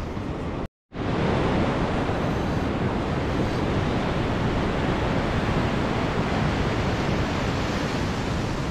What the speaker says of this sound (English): Let's go down on the beach, on the edge of the water.